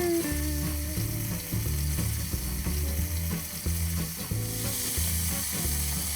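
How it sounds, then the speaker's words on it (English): Scallopini brown in a hot pan, giving off a steady, even sizzle that carries on without a break, with background music playing underneath. "We just want to get them nice and brown"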